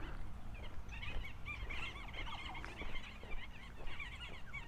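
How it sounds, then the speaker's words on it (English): Birdsong from trees beside a footpath along Coronation Drive in Innisfail, Australia, with many chirps and trills overlapping steadily through low outdoor rumble, moderately close and continuous. "Hear birds in the trees."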